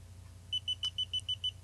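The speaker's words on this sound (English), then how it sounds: "It'll beep like that, and it's off." A Xiaomi Yi action camera gives a quick run of seven or eight short, high electronic beeps in an even rhythm as it powers off, close and clear over a quiet hum.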